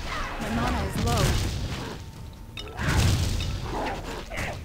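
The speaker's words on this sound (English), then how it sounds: "So many explosions." Explosions and crashing impacts in the co-op action RPG Torchlight II, with rumbling bursts and whooshes in two waves, heard loud under a player talking throughout.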